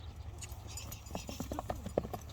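A three-year-old racehorse's hooves clip-clop in a fairly quick, irregular rhythm of distinct thuds, close and clear, with faint voices in the background.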